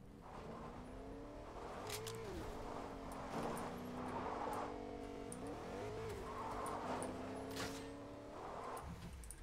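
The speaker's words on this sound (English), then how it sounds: "Oh, I hear a car." A car in a video game drives past, its engine revving and rising and falling in pitch with faint tire squeal, moderately close under game ambience.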